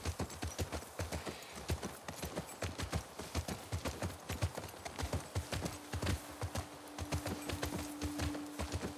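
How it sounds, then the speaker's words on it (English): Steady clip-clop of horse hooves on a hard surface in The Last of Us Part II, a brisk continuous rhythm of several horses walking, with a faint hum entering partway. "We're gonna have to leave the horses here."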